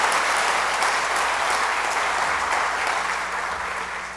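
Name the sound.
church congregation men applauding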